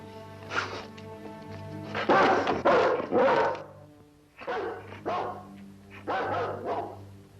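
A dog gives several loud, close barks in irregular bursts, with short gaps between the volleys.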